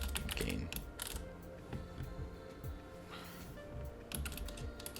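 Typing on a computer keyboard while writing game code, a steady stream of close clicky keystrokes with brief pauses, running under a faint background hum.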